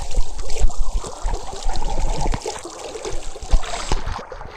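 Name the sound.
natural spring water flowing out of the ground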